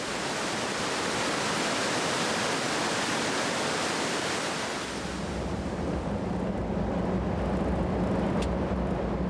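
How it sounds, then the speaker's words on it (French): Waterfall in Mexico, a loud, constant roar of rushing water filling the scene, heavier and broader at first and then settling into a slightly duller steady rumble, with no voices heard. "Non, c'est la cascade!"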